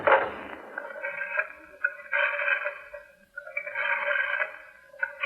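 A telephone call is placed in a 1957 radio crime drama, with telephone signal tones coming in several sustained bursts separated by short pauses, clear and moderately loud, with no talking.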